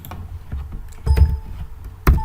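A few scattered keystrokes on a computer keyboard while numbers are typed into a Windows Forms program, heard as sparse, fairly close clicks and thumps with one firmer press near the end.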